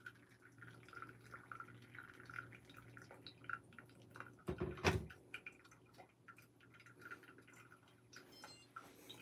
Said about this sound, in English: And then I'm gonna add another 50 grams of water.